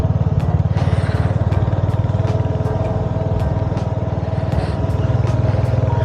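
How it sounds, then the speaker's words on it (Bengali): Two motorcycles, a Royal Enfield Hunter 350 and an Apache RR 310, ride along a road with a loud, steady engine drone and throbbing rhythm throughout, over rushing wind. "দুটো বাইক যাচ্ছে, একটা হচ্ছে রয়্যাল এনফিল্ড হান্টার 350 আর একটা হচ্ছে অ্যাপাচি RR 310।"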